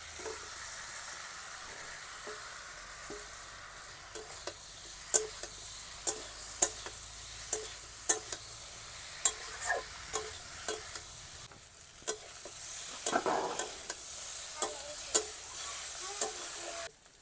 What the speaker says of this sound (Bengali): মশলাটা কষানো হয়ে গিয়েছে, আর ফুলকপি আলু ভাজাগুলো দিয়ে দেব।